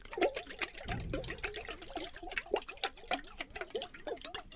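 Water sloshes and splashes inside a container as it is shaken, in quick rhythmic wet bursts, close and fairly quiet with no talking.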